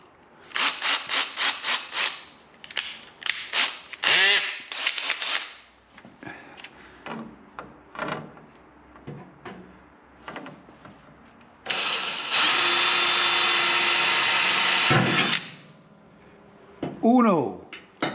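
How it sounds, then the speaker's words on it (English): A power drill whirs in several short bursts, then runs steadily for a few seconds boring a pilot hole while installing a Leed Brakes vacuum pump on a Chevelle SS, with brief scraping and a voice near the end. "Drill a pilot hole."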